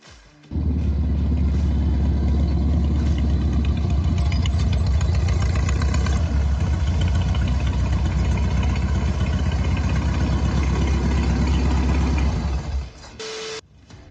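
The engine of a 1968 Volkswagen Beetle hot rod idles in a steady, throbbing rumble close by, then cuts off near the end.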